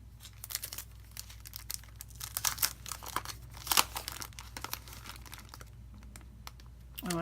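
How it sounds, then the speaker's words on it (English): A small package of paper crinkles and rustles as it is handled at a table, close up and fairly quiet, in irregular bursts with sharper crunches. "She sent me this little package of paper."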